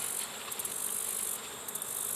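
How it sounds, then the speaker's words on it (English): Honey bees at an opened hive, a faint, steady high buzzing with a few brief louder swells as individual bees pass close, no talk over it. "Plenty of bees here."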